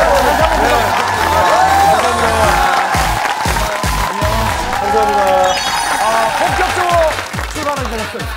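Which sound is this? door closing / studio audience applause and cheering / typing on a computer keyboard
studio audience applause and cheering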